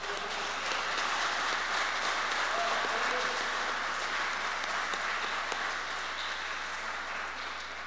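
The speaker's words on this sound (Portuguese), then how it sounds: "Vamos dar uma salva de palmas para o nosso Deus." A church congregation claps steadily in sustained applause, a dense patter of many hands that holds for several seconds before easing slightly.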